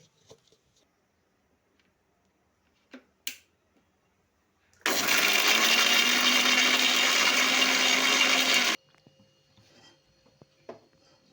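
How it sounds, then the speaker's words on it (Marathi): A kitchen mixer grinder blitzes garlic, curry leaves, green chillies and cumin in one loud, continuous whirring burst of about four seconds, with quiet handling clicks before and after. "आता हे मिक्सरला मी फिरवून घेते"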